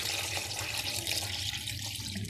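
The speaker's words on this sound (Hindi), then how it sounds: "अभी हम इसमें मजीद पानी शामिल करेंगे।" Water pours steadily into a large pot of kadhi made with lassi during cooking, a continuous close splashing rush with no talk over it.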